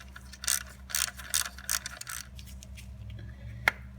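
A ratchet wrench clicks in quick, close bursts while a 10mm nut is loosened on a Ford Mustang GT alternator, with a low steady hum underneath and one sharp tick at the end.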